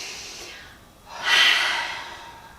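A single cleansing breath during couple's yoga, a soft inhale fading into a louder, breathy exhale through the mouth, close and alone.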